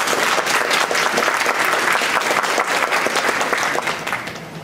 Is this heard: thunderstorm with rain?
no